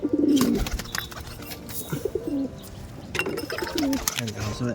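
Pigeons scramble over scattered paddy grain, giving repeated low throaty coos over a busy patter of quick taps and pecks, loud and close throughout.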